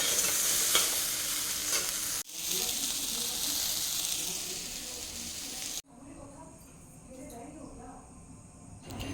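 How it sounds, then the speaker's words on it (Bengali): Soybean chunks fry in a pan with a steady, loud sizzle and repeated stirring scrapes, broken by two abrupt cuts into slightly quieter frying. "এদিকে সোয়াবিনটা ভেজে নিচ্ছি"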